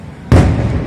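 A firework explodes in Taiwan with a single sudden loud boom that cuts in sharply and then rumbles and decays over the following moment.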